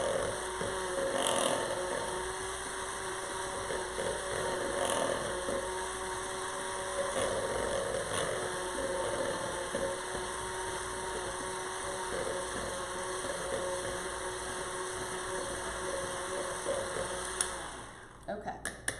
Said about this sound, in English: I'm going to take my mixer again, and I'm just going to whisk this together